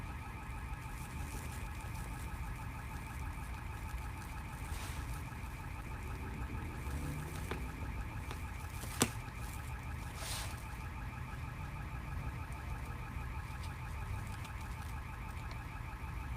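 A car alarm goes off outside, its steady repeating electronic tones droning on continuously at a moderate distance, with a few faint clicks and knocks nearby.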